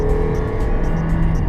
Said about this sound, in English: the engine noise. It can get a little loud when you have to push it a little harder than just cruising